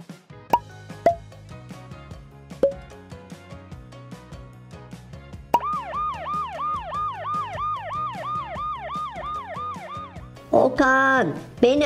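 Plopping toy sounds and clicks, then a toy jeep's roof-mounted electronic siren warbles in rapid repeating sweeps for several seconds, followed by a brief burst of another tone.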